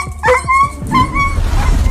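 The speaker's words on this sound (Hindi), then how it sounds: "अब जो ही कुत्ते को करंट का झटका लगता है" A dog yelps and whimpers after touching an electric fence, a series of sharp high cries followed by a longer whine, loud and close.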